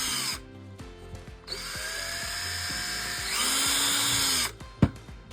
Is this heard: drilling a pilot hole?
yes